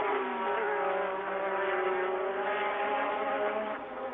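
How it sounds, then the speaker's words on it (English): Formula One cars of the McLaren and Williams era racing on track, a Williams closely chased, produce a continuous high engine whine with shifting pitch, heard at moderate distance. "Senna is all over the gearbox and rear wheels of Nigel Mansell's Williams."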